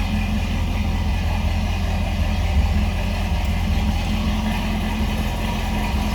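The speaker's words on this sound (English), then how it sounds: "A little rumble coming out of that 400 under the hood." A big 400 cubic inch V8 in a 1969 Pontiac Firebird convertible idles with a steady deep rumble, close and loud, unchanging throughout with no talking.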